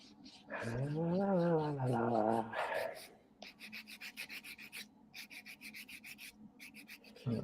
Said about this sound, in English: I'm sanding off cameras because it's boring to look at.